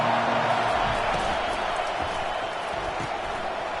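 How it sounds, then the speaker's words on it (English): Loud stadium crowd at a college football game, a dense continuous roar of cheering voices filling the space, steady and intense with a commentator talking over it. "This crowd bringing an ear-splitting welcome to their visitors."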